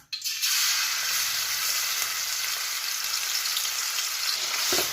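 Ginger garlic paste sizzles loudly in hot oil while chicken pickle is being made, a steady dense frying hiss that lasts the whole stretch after a brief quiet start, close and continuous with no talk.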